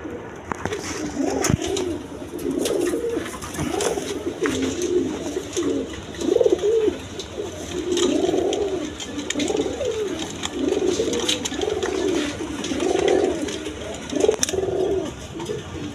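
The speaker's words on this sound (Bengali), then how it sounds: "হাই ফ্লাইং কবুতর এইগুলো, একদম 1000 টাকা দেখেন, দেখার মতো কবুতর" High-flying pigeons cooing nearby, repeated low throaty coos in a steady rolling rhythm over about sixteen seconds, with light wing flutters and scattered chirps around them.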